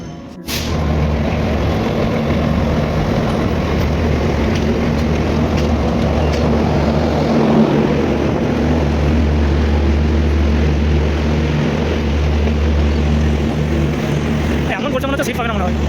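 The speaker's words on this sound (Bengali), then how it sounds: "ফাইনালি ঢুকে গেল আমাদের শহীদ এক্সপ্রেস, দেখতেই পাচ্ছ।" The Shahid Express rolls into a railway platform with a loud, steady engine drone and low rumble that lasts throughout, while voices are heard nearby.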